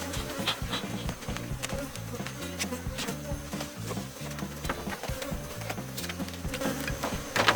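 A dense, steady drone of honeybees buzzing around a hive while it is covered, filling the whole stretch at constant loudness with busy, layered humming and no talking.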